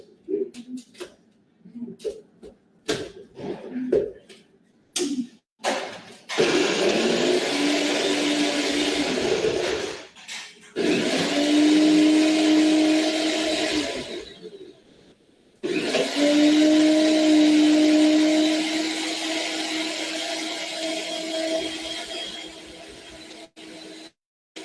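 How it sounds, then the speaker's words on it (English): Kitchen blender at a cooking social, running in three loud bursts of whirring, each several seconds long with pitch shifting as the contents churn, separated by short pauses with clatter and voices before the first burst. "Now I've done it properly and not let Simon be in charge of the blender"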